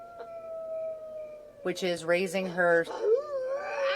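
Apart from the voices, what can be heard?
werewolf Sim howling, video game The Sims 4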